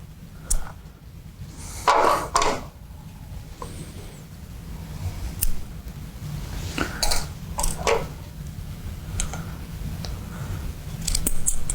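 Scissors snipping through wooden skewers, a series of sharp irregular clicks and crunching cuts scattered over several seconds, close and moderately loud over faint handling noise.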